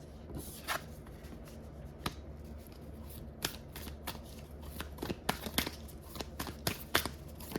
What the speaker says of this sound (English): I'm going to get all the cards out